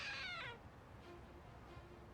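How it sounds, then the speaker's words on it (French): A secret compartment opening with a cat-like meow in the video game Lost Judgment, a single clear meow at the start followed by faint quiet background tones, no talk. "Et il fait miaou quand il s'ouvre."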